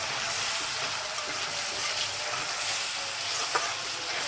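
Chicken biryani cooking in a frying pan makes a steady, moderately loud sizzle with faint stirring scrapes and one small knock.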